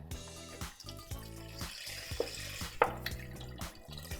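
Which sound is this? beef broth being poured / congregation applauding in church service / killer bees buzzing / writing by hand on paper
beef broth being poured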